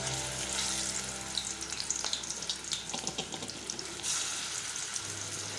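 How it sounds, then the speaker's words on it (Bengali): Olives dropped into hot mustard oil with five-spice seeds, a steady close sizzle with crackles and spits as they fry, fairly quiet and alone. "তেলটা গরম হয়ে গেছে, আমি এর মধ্যে 5 ফোড়নটা দিয়ে দিচ্ছি। এইবার আমি এর মধ্যে জলপাইগুলো দিয়ে দিলাম।"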